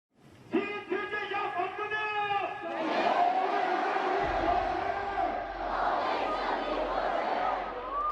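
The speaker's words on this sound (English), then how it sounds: "Crowds surge throughout the streets in a way not seen prior to Fugui's conscription, chanting and pumping their fists" Crowd surging through streets in a Chinese film, chanting in unison with loud voices and shouts; a rhythmic group chant swells into a dense, roaring mass of cheering and battle cries over a low rumble.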